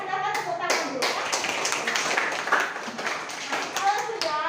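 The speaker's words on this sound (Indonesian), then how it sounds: "Silakan tepuk tangan dulu ya" Classroom pupils clapping their hands together in a burst of dense, rhythmic applause that swells and fades, with children's voices mixed in.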